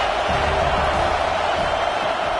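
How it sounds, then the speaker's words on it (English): Football stadium crowd noise forms a dense, loud, steady roar of voices and cheering that fills the whole stretch without a break. "this crowd is turning it up a notch"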